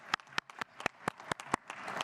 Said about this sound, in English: I want a round of applause for you guys